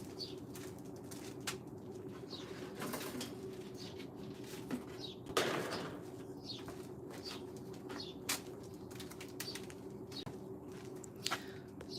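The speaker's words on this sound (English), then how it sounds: "listen to the birds while I look for my basket" Birds call in a home garden, with soft dove-like coos and scattered chirps coming steadily at a moderate distance over a low background hum.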